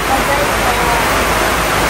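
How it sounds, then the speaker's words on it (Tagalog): Heavy rain pours down in a steady, dense roar, loud and close, with no breaks from start to finish, over flooding. "Hindi po natin sila masyado marinig dahil malakas ang ulan."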